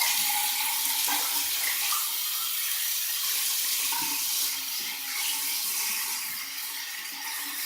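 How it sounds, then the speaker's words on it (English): Bathroom tap running steadily for a rinse after a shave, a continuous close hiss of flowing water that barely changes for several seconds. "I am going to do my final rinse right from the tap."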